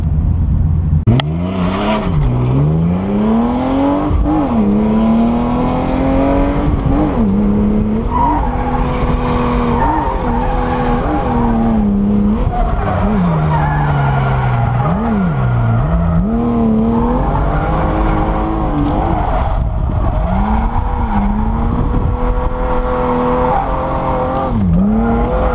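A BMW M3 spins off the line on a race track, its engine revving hard and rising and falling in pitch while the tires squeal and skid continuously, loud and close throughout with no talking.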